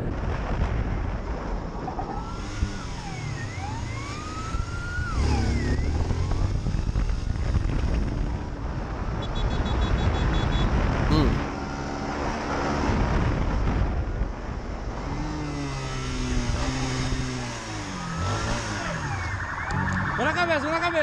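A police car siren wails and sweeps in pitch as the car draws near, loud over rumbling traffic noise and shouting voices.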